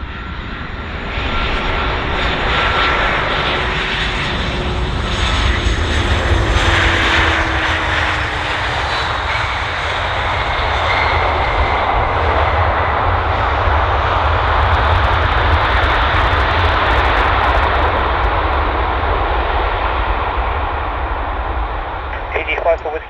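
An airliner landing at Bristol Airport, a loud continuous roar of aircraft engines that holds steady for over twenty seconds and fades only slightly near the end, with a voice talking over it.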